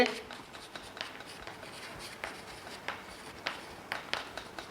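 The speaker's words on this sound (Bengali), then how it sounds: "তো আমি এখানে ব্র্যাকেটে লিখে দিতে পারি কঠিন থেকে" Chalk or marker writing on a board during a Class IX physical science lesson, soft scratchy strokes and taps in an uneven rhythm beneath a teacher's lecturing voice.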